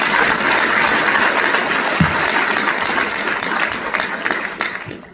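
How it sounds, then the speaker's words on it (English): Dense, loud applause from a graduation audience of the Culinary Institute of America class of April 2025 at a baccalaureate ceremony, sustained throughout and tapering slightly at the end. "Give yourselves another big round of applause"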